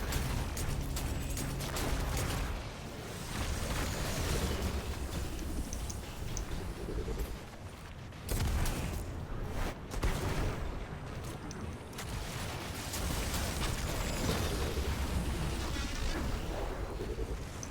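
Heavy blasts and rumbling explosions from grenades in the shooter Destiny 2 roll through a chaotic firefight, broad and loud, with a brief lull before another surge of bursts.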